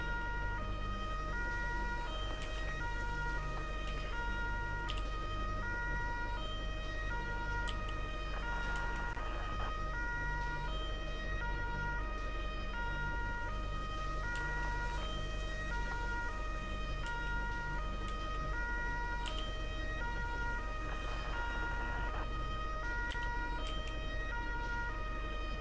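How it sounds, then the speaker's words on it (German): A wailing airport fire truck siren in Airport Firefighter Simulator 2013 cycles steadily over a constant engine rumble, loud and close, with no talking. "Ich mach Sirene an."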